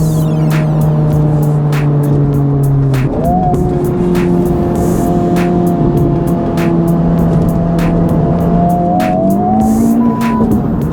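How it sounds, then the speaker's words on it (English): A Honda Civic Type R FL5 with a downpipe fitted accelerates hard, its loud engine climbing steadily and revving through a gear change while the tires break loose with a squealing scrub. The car is close and runs alone, with no talk. "Just breaking tires loose."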